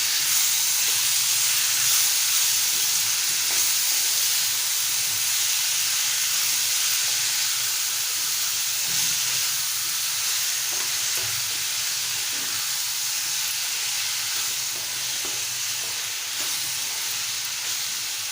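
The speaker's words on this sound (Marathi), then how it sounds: "आता आपण त्यामध्ये बारीक चिरून घेतलेली मशरूम टाकूया।" Chopped mushrooms sautéing in a pan for a Malvani-style mushroom masala, giving a steady, close sizzle and frying hiss with faint stirring throughout, no voices.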